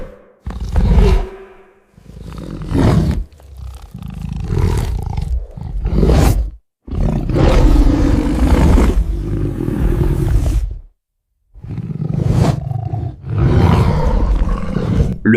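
Lions roaring in a den, a series of loud, close, rough roars in long bursts separated by short silences.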